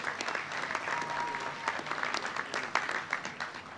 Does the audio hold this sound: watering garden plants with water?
no